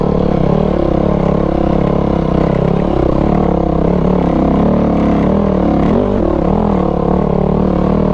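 A four-stroke dirt bike engine climbs a trail, a steady close droning rumble that rises and falls slightly with throttle throughout, with no talk over it.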